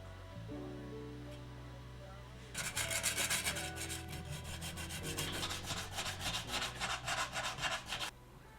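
Hand sanding of body filler on a Porsche 964 911 headlight housing, a rapid rhythmic scratchy rubbing for about five seconds over a low background hum.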